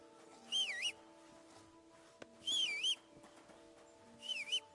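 Whistling in the video game Kingdom Come Deliverance 2: three short, wavering tuneful whistle phrases, evenly spaced and fairly faint over a soft steady ambient hum.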